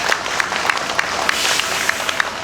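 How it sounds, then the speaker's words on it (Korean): An audience at a Korean memorial for COVID-19 vaccine victims gives a steady round of applause, dense clapping with regular sharp claps standing out throughout. "힘찬 박수 부탁드리겠습니다."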